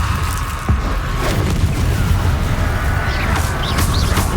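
Confringo blasting spell explosions in Hogwarts Legacy burst with a dense, roaring boom that keeps going, with crashing debris and a bright whooshing tail.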